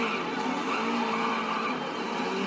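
Continuous tyre screech of a car sliding sideways in the racing game Race Driver GRID during a demolition derby, a loud sustained squeal under engine noise, steady for the whole stretch, no talking.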